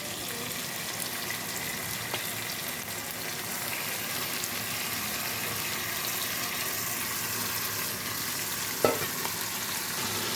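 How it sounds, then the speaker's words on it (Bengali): Marinated paneer is stirred into fried onion, capsicum and tomato in a pan over low flame, with a continuous sizzle under repeated spatula scrapes and one sharp clack near the end. "এবার গ্যাসের ফ্লেমটা কিন্তু একদম কমিয়ে দিয়ে হালকা হাতে পনিরটা রান্না করে নেব।"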